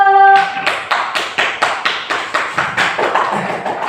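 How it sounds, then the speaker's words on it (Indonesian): Classroom students clap together in a steady, rhythmic pattern of about a dozen sharp, close claps, following a brief tonal sound at the start. "Ya, betul sekali, tepuk tangan dulu."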